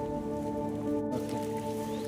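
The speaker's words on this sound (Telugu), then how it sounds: "ప్రజెంట్ వర్షం పడుతుంది కాబట్టి ఇక్కడ" Rain falls steadily on a tribal farmhouse hut in the forest, a soft, even patter throughout with a low hum underneath, with no voices in the brief stretch.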